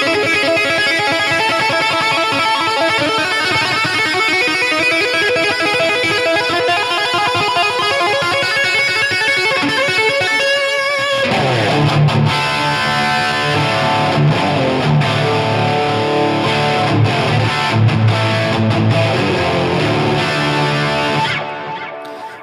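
Electric guitar through a Helix Stadium 80s-style amp preset, bright and heavily distorted, playing a busy riff loud and alone, shifting to a lower, chunkier passage partway through.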